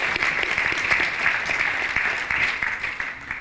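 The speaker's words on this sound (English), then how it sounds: "I think we should really welcome the Prime Minister with a round of applause" A committee audience applauds the Prime Minister in a formal hall, steady dense clapping from many hands sustained at an even level throughout, close and full with no voices breaking through.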